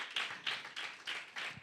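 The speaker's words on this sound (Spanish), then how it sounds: "Un aplauso a multimedia" Church congregation clapping during a worship celebration: a brief burst of about five rhythmic, evenly spaced claps, fairly quiet, with no talking over them.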